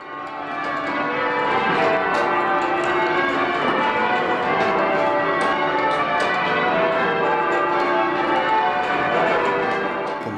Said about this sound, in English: We might consider bells to be a bit irrelevant now in calling people to worship